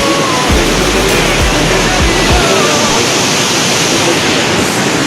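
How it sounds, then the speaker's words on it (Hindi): A small waterfall in a snowy Himachal Pradesh village pours with a constant loud broadband rush of falling water, a few low thumps near the start, close and unbroken with no clear talk. "ये छोटा वाटरफॉल"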